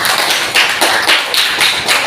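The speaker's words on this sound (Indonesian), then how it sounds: "tepuk tangan dulu untuk kelompok 1" Classroom clapping for a student group, loud and close, with rhythmic bursts of hands striking together in a regular beat of about two claps per second.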